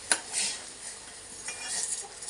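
A utensil stirs sorghum grains boiling in water in a pot on a gas stove, giving a sharp clink followed by soft scraping and a bubbling hiss, close and moderately quiet.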